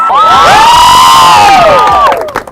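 A girls' soccer team cheers and shouts together in a loud, sustained burst of high voices that trails off at the end.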